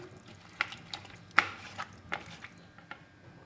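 Hands press pieces of raw chicken into dry flour (maida) to coat them for zinger strips, giving soft, irregular pats and light thumps spaced across a quiet kitchen background.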